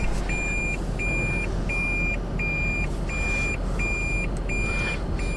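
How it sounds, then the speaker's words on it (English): Toyota Prius backing up, its reversing alert giving a regular series of clear electronic beeps about half a second each, repeating evenly over a loud steady engine-and-road hum inside the car. "Prius is just beep when you back up."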